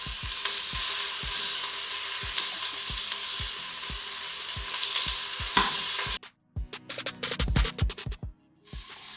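Onions frying in oil in an Instant Pot, a bright steady sizzle with regular scraping strokes of a stirring spoon, close, then the sizzle drops away near the end, leaving a few louder clanks and scrapes.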